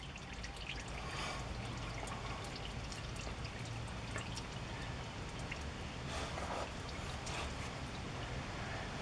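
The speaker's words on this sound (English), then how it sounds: "Get the oil a little warm, flows out a little better." Warm engine oil drains from a 2014 Chevy Silverado into a catch pan, a steady continuous pouring trickle that holds even and unbroken throughout with no voices.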